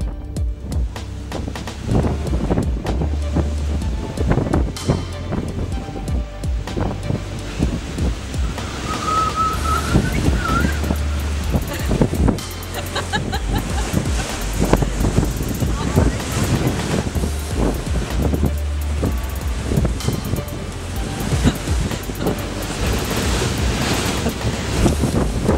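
Strong wind buffets the microphone with a steady roar, mixed with surf-like rushing noise, loud and continuous throughout.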